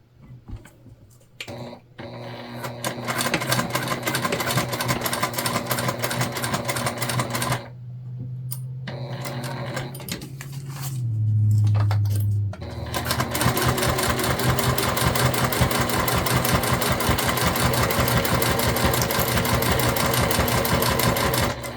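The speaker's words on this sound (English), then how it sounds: "we are gonna sew together from about this clip here, up, over, back around" A sewing machine stitches a crossbody bag in steady, fast runs of needle chatter, stopping briefly and starting again, close and loud, with no talking.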